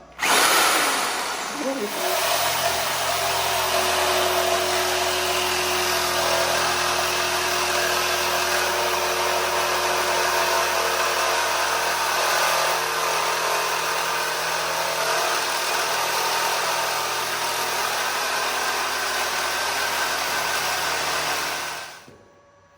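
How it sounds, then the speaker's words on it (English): A reciprocating saw cuts steadily through the metal body of a Chevrolet C10 pickup for about twenty seconds, loud and close, with a continuous buzzing roar and a low engine-like drone underneath. "we're gonna be cutting all the way down with our Sawzall down the line here"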